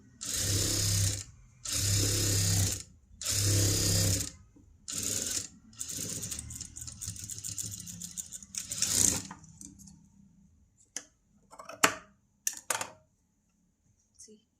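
A sewing machine stitching a princess-cut boat-neck blouse runs in three or four loud, buzzing bursts with short pauses, then stops, leaving scattered clicks and light handling of the fabric and machine parts.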